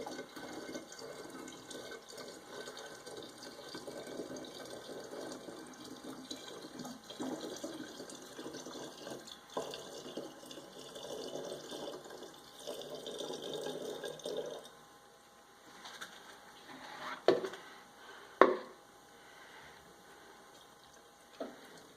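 Well water that has been through a reverse osmosis filter runs steadily into a mead-making container for about fifteen seconds, then stops, followed by a few sharp knocks and clunks.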